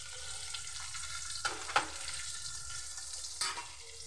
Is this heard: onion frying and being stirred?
yes